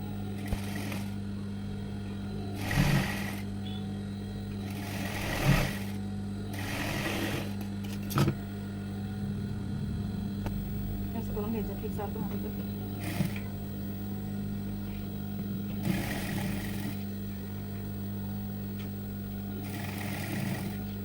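A sewing machine stitches a blouse with a steady low hum, broken by short louder bursts of stitching every few seconds. Nobody speaks.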